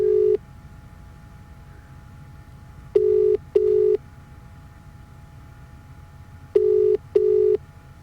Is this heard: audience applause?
no